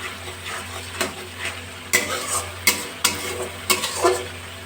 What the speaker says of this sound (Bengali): যতক্ষণ না পর্যন্ত তেল বেরোচ্ছে আমি মশলাটা এইভাবে করতে থাকবো